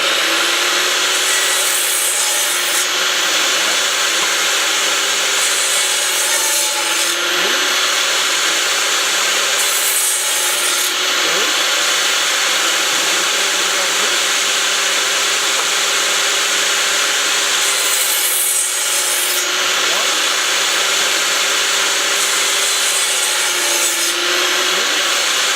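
Power saw cutting an old, partly painted piece of wood for an 8-frame bee hive, making a steady, loud, continuous whine with a few slight dips in pitch, heard alone with no talk.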